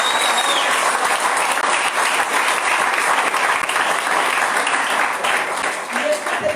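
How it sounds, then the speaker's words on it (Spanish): A church congregation applauds during a Spanish-language Christian service, a dense, sustained wash of many hands clapping, loud and even throughout. "dale un aplauso al Señor"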